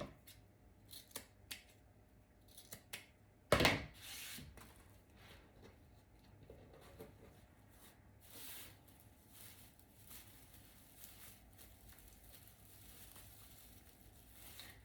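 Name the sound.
cutting decoration material for Christmas door decor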